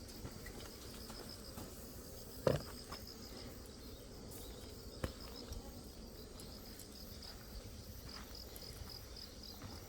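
Hornets buzz steadily around a honeybee hive as a hornet net is swung at them. The drone is faint and continuous, with a couple of sharp knocks partway through and no voices.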